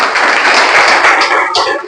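An audience at a direct-selling networking seminar breaks into dense, loud applause, many hands clapping in a continuous close wash for the whole moment.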